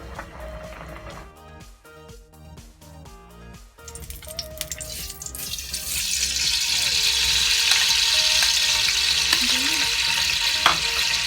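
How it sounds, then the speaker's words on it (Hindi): Water is drained from boiled spaghetti: a loud, rising rush of pouring water builds and holds for several seconds over faint kitchen clatter and a low hum. "स्पैगेटी पक चुके हैं, अच्छे से गल चुके हैं। अब मैं इसका पानी ड्रेन आउट करूंगी।"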